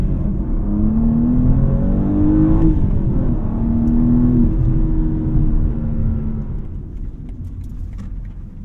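A 2021 BMW M4 with a six-cylinder engine and manual gearbox idles steadily after a drive, a close, continuous low rumble with a brief swell in pitch before easing back to a quieter hum.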